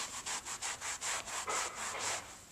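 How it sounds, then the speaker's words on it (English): A brush scrubs a stained cotton rug with detergent in brisk back-and-forth strokes, about ten rasping swishes in a steady rhythm, close and fairly loud with no voices. "I'm hoping that the detergent's chemicals start cleaning the rug up as I scrub."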